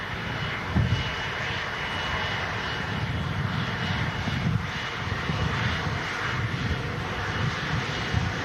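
A Virgin Airbus A350 jet at Manchester Airport gives a steady, loud engine roar with a rumbling low end that holds evenly throughout, broken by brief gusty swells, and no voices are present.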